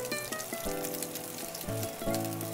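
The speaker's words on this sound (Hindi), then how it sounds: "एक साइड भून गया है हम इसे पलट देंगे और एक साइड से भी एक मिनट हम इसे फ्राई कर लेंगे" Fish frying in oil in a kadai over a medium flame for a Bengali macher jhal, a steady close sizzle and crackle with bright popping spatters and no talk.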